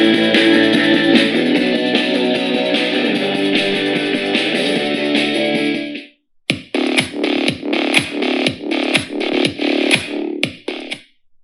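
A Lenovo K3 Pro Bluetooth speaker plays music loudly at about 80% volume, a dense sustained passage followed after a brief gap by punchy rhythmic beats, with no talking.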